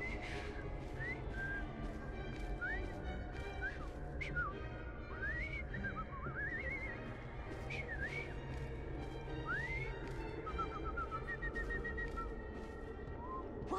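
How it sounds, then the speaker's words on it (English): A man in Assassin's Creed Syndicate whistles a string of short rising and falling notes, clear and fairly close, scattered across the passage over faint background ambience. "I've just learned to whistle."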